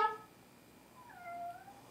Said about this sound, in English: The kitty cat's coming to join us today.